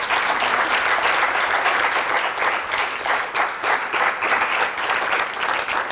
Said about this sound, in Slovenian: Dajmo jim za konec še en velik aplavz.